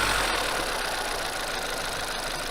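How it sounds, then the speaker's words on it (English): A VW Tayron SUV engine runs at a steady idle after starting, a constant broadband hum with a slightly rough, knocking edge, close and even throughout with no voices. "Start it up, let's have a listen. It's probably going to make it a bit noisy."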